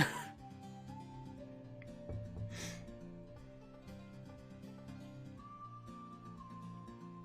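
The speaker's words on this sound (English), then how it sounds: "Yes, the whistles." Whistled melody in Hiveswap Friendsim video game music: clear sustained whistle tones over a quiet, steady backing track, with no speech.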